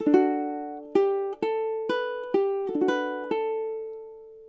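A plucked ukulele picks out a short melody from Minuet in G, each note ringing clearly with several strums and doubled notes spaced unevenly, played alone and close.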